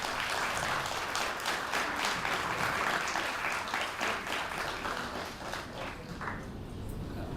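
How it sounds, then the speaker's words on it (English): Audience applause for children who have just performed at a live show, a dense sustained clapping from many hands that stays loud throughout and eases slightly toward the end. "we all need to give a big round of applause for all of them"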